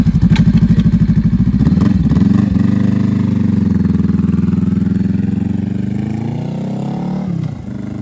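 A Honda Rebel 300/500 motorcycle fitted with a Coffman's exhaust and silencer rumbles loudly nearby, throttle blipping at first, then holding a steady engine drone as it rides off down a parking lot, rising in pitch near the end.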